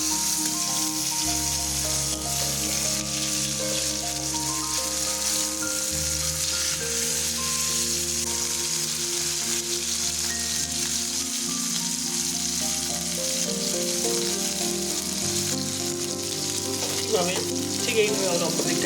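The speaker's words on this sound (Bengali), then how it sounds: "এভাবে আমরা মাছগুলোকে একবার 5 মিনিট ধরে ভালোভাবে ভাজা করে নেব।" Pieces of bata fish frying in oil in a pan, a steady loud close sizzle with crackle, a faint pan scrape near the end, and background music playing.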